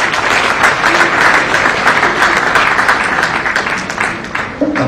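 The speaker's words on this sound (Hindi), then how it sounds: "आप ताली तो बजा रहे हो," Sustained applause from a seated audience of officers at an indoor club event in Jaipur, steady and dense for several seconds, loud and close, tapering slightly near the end.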